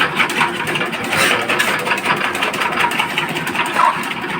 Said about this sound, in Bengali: এখানে কলা গাছগুলো ছোট ছোট করে কাটার জন্য চপার মেশিনে দেওয়া হয়েছে গাছগুলো কাটা হচ্ছে